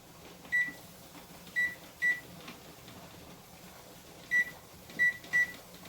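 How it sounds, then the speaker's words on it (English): Short electronic beeps from a kitchen timer or microwave keypad being set, six brief tones in irregular groups over a quiet hum, no talking. "so I'm going to set my timer for 10 minutes."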